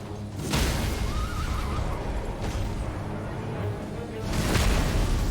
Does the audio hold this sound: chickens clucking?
no